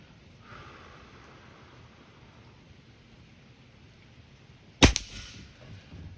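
A Diana Model 34 air rifle fires once at a beer can outdoors, a single sharp crack and impact after several seconds of quiet background hiss, with a brief tail afterward.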